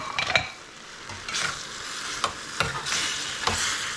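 Broccoli, carrots and mushrooms stir-fried with garlic in a pan: a steady oily sizzle broken by repeated scraping, clattering stirs at an uneven rhythm, close up, with no talking.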